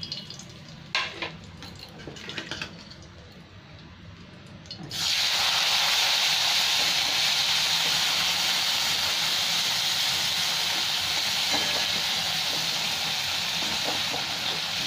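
Small fish hit hot oil in a pan for a Bengali fish curry; after a few quiet clinks and rustles, a loud, steady sizzling hiss takes over and continues unbroken.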